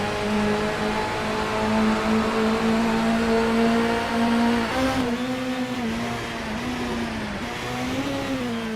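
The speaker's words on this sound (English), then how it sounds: "engine would be screaming at that" A Toyota 86 race car engine in a sim racing game at Oran Park screams at high revs, its pitch rising and dipping through gear changes, loud and steady throughout with no talk.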